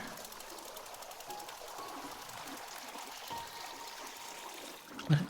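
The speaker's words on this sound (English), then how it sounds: "pull the rope to pour the water as you like" Water trickles and streams steadily from a tea machine in the video game Wanderstop, a soft continuous flow throughout with a brief louder knock near the end.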